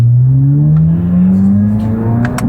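A Corvette ZR1 engine drones loudly nearby, its pitch climbing smoothly through a steady rumbling tone with faint crackles near the end, with no talk over it.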